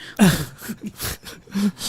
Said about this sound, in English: you can still hear me coughing